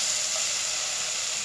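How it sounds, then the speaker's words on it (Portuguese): Onion and garlic sautéing in a little olive oil, a steady soft hiss and sizzle from the pan with no talking. "Agora eu vou para o fogo refogar a cebola e o alho"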